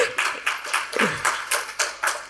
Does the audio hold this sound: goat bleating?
no